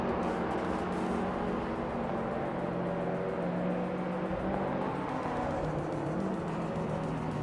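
A Peugeot 207 GTI hot hatch engine drones steadily in a racing video game, a continuous mid-pitched hum with faint whirring and no clear rev changes.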